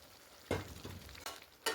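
Jackfruit curry with spices in a village kitchen pan sizzles just after water is added, with a few sharp spoon scrapes and clatters breaking through a low, steady bubbling hiss.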